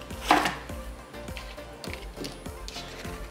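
A knife cuts the stalk from a Chinese cabbage, a few close, crisp crunching chops and scrapes on a board, the first loudest, followed by quieter cuts.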